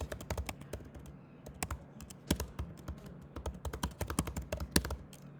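A username typed on a computer keyboard: quick, irregular bursts of crisp key clicks, close and clear, with short pauses between runs of keystrokes and no talking.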